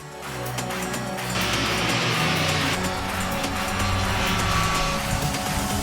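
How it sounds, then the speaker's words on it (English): A 2023 Triumph Street Triple 765 motorcycle with shorter gearing, a freer-flowing exhaust and inlet trumpets revs hard, its engine and exhaust a loud, continuous racy howl that rises in pitch throughout. "Shorter gear ratios, a freer flowing exhaust system, and inlet trumpets makes the soundtrack racier than before."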